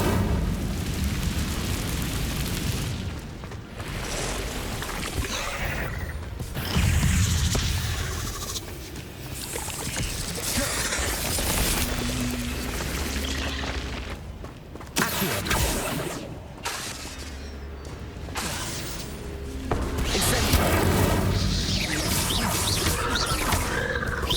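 The Incendio fire spell is cast repeatedly in the video game Hogwarts Legacy, producing loud roaring, crackling bursts of flame with explosive surges and short quieter gaps between casts.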